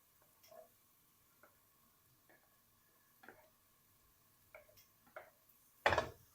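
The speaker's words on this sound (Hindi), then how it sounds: "और चम्मच चला लूंगी" Finely chopped onion stirred in a pan with a spoon, sparse soft clicks and scrapes against the metal at irregular intervals, faint and close, ending in one louder scraping clatter, no talking.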